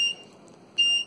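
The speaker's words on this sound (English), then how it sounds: "Cancel out the alarm again." Beeping buzzer alarm from an ESP8266/ESP01 Arduino MQTT leak detector, sounding two loud, steady high-pitched beeps separated by a short pause, close by with no talking.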